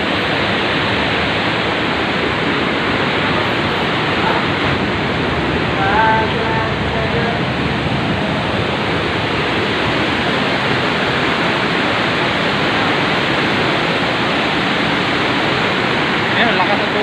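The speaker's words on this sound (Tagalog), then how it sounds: "ang lakas ng tubig, oh." Powerful water rushes through Wawa Dam in a loud, unbroken roar, heard up close and steady for the whole stretch.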